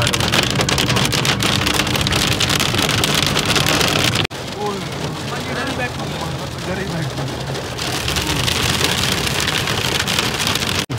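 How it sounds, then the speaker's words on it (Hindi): Steady rain patters densely on a car windshield in Murree, loud and close, briefly softening in the middle before the heavy drumming returns. "ये देखिए शीशे के ऊपर बारिश के कतरे"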